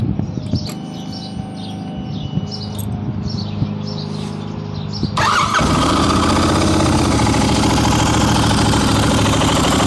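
A Royal Enfield 650 motorcycle engine cranks and catches after a few quiet seconds of small clicks and ambient birdsong, then settles into a loud, steady idle close by.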